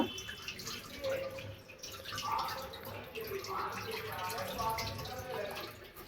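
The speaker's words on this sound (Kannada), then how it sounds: "ಸೊ ಇದನ್ನು ಚೆನ್ನಾಗಿ ವಾಶ್ ಮಾಡ್ಕೊಳ್ಳೋಣ." Something washed with water in a home kitchen, with faint splashing and dripping running on and off at low level while a person talks.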